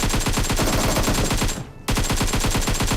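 Rapid automatic gunfire in the PUBG video game, a dense run of close, loud shots broken by a brief gap before the burst resumes.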